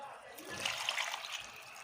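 Water trickles and splashes steadily as it is poured into a cooking pot for a simple tomato and oil pasta dish, a close, continuous liquid pour in a home kitchen.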